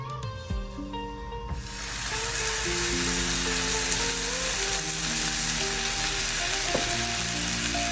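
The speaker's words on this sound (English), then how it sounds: "so I am going in with some Kerrygold butter. I'm just gonna lightly toast my bread." Slices of bread toast in Kerrygold butter in a hot pan for a Guyanese plait bread, giving a loud, steady sizzle and crackle that swells after the first second or two and holds evenly throughout, with no talking.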